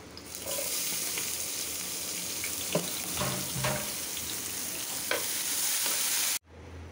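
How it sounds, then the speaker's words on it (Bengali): Onions sizzle in oil in a pan for a bitter gourd dish, a steady close hiss broken by a few scraping stirs before it cuts off abruptly near the end. "এখানে আরেকটু তেল দেবো পেঁয়াজটা ভাজার জন্য।"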